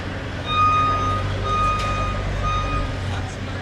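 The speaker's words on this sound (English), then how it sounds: "Lots of construction off to our right over here." Reversing beeps from a truck at a construction site sound in a steady repeating pattern over a constant low engine rumble and outdoor traffic noise, moderately loud and fairly close.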